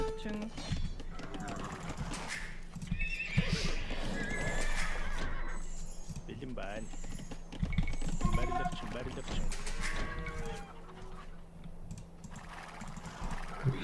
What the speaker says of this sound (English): These are wild horses.